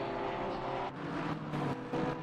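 A Porsche race car engine in a racing video game at Laguna Seca, a loud, steady high-pitched drone that shifts pitch as it passes and changes gear, no voice over it.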